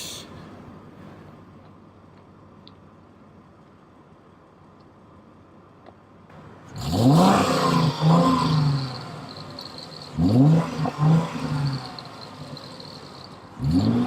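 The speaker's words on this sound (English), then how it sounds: "Let's give it a rev." A car engine revving in neutral with an automatic gearbox: a steady idle, then two rising revs that climb and fall back, loud and close, with a moderate tone.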